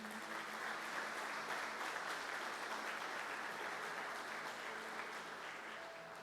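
Church service congregation applauding, a dense, even wash of clapping that holds steady throughout, quiet and somewhat distant in level with no voices over it.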